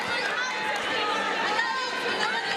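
Vocal college volleyball crowd on the Calvin side of the arena during an NCAA Division III MIAA tournament final against Hope, a steady dense roar of chatter and cheering that holds at an even level throughout.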